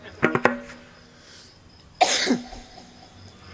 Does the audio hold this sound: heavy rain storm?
no